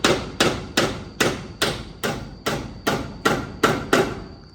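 A hammer drives nails into steel while a shop is being built: about eleven sharp, ringing blows land at an even, brisk rhythm, close and clear.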